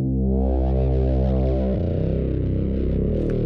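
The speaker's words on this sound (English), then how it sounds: "And then my favorite thing is this parallel bass distortion." A thick synth bass with parallel distortion plays a steady sustained line, loud and gritty, with a note change partway through and no voices.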